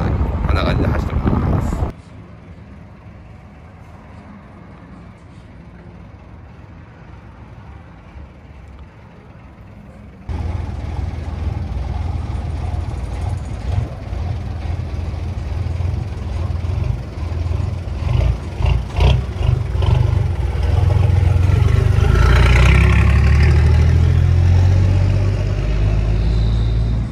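An advertising truck drives through the streets of Shibuya, Tokyo, near the scramble crossing, with a steady engine and road rumble and wind buffeting the microphone. The noise grows louder and heavier toward the end, and voices can be heard faintly at times.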